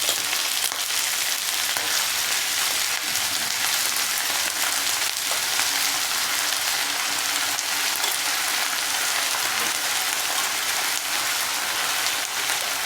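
Eggplant pieces frying with onions in a pan, a steady dense sizzle and crackle like rain that holds evenly for the whole stretch, close and moderately loud with no talking.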